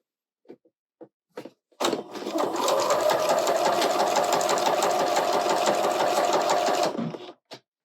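A sewing machine stitching quilt binding runs in one continuous burst of about five seconds, with a steady mechanical whir and rapid needle rhythm, framed by a few brief clicks and handling taps before and after.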